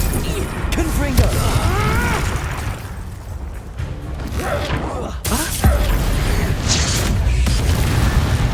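Confringo fire spell in Hogwarts Legacy, loud booming blasts with whooshes and crackling bursts amid combat noise, with voices speaking in between.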